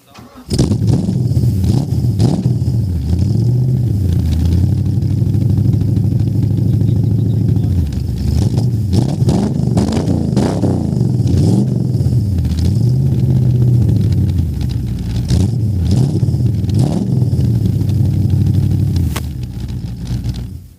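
An old car's engine roars to life and revs repeatedly at the 2022 old car show in George, South Africa, the pitch rising and falling in waves, loud and close with clattering underneath, plus occasional voices.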